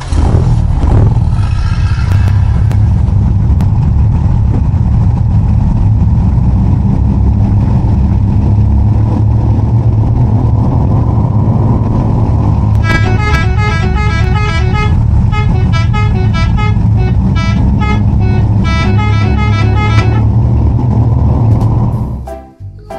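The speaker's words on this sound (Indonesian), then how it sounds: "Sekarang truk oleng kita siap berangkat." A toy truck ('truk oleng') carrying toy cattle drives off with a loud continuous engine drone and rumble, joined midway by repeated tooting horn-like tones, close to the listener throughout.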